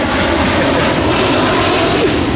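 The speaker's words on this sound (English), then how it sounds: "Hold on, big old airplane passing by." A loud, steady roar of an airplane engine passing overhead, close and continuous, filling the whole moment with no talking.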